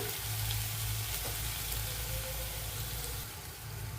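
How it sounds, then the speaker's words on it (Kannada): Tomato puree fries in hot oil in a pan for a shahi mixed veg kurma, giving a steady, close, dense sizzle that holds at an even level throughout without speech. "ಟೊಮೆಟೊ ಪ್ಯೂರಿ ಹಾಕ್ಕೊಂಡು ಅದನ್ನು ಸಹ ನಾವು ಚೆನ್ನಾಗಿ ಫ್ರೈ ಮಾಡ್ಕೊಳ್ಬೇಕು"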